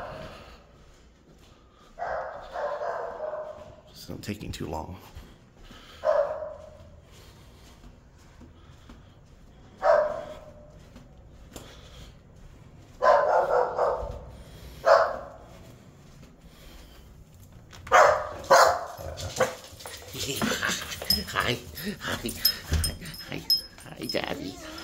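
A Staffordshire bull terrier indoors lets out several bursts of whimpering, whining and sharp barks, close and excited, mixed with a person speaking between the outbursts.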